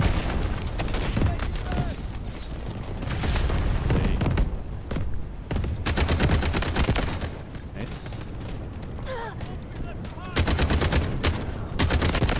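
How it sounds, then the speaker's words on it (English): Sustained gunfire in Delta Force: Hawk Ops during an attack-and-defend battle, dense overlapping automatic bursts and single shots crackling continuously and loudly, with a voice talking underneath. "The sound of the guns"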